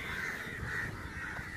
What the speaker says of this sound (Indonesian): Oke, di sini banyak gagak.